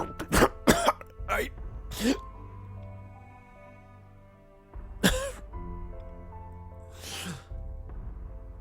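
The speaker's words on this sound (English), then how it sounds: "tries to stifle the sound of his coughing as hard as he can" A man coughs and clears his throat in several harsh bursts, some muffled as he stifles them behind his hands, with a low hum between them and brief vocal sounds.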